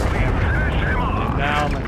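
Tank cannon shot from a Progetto 65 in a video game, a loud low blast with rumbling tail, followed by whining mechanical sounds; a voice talks over it.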